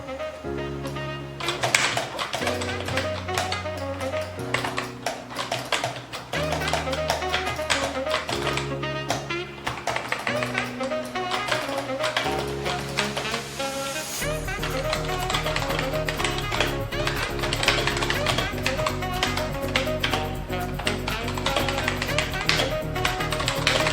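Steady rapid tapping of keys on a Cooler Master MS110 gaming keyboard, clicking along continuously with a constant beat playing underneath throughout.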